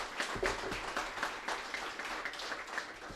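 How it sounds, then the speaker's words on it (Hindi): At an awards ceremony in Aurangabad, an audience gives a standing ovation with fairly faint, continuous applause and scattered individual claps throughout. "मैं दरख्वास्त करूंगा आप लोगों से कि एक स्टैंडिंग ओवेशन हो जाए।"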